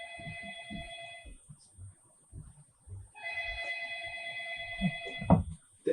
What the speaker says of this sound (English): I'll wait until the phone is done ringing.